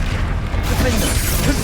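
A Bombarda spell bursts in the Hogwarts Legacy video game, a loud dense rumbling blast with crackling debris that fills the whole short moment.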